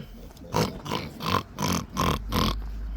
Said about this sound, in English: Yeah, we've got a pig here.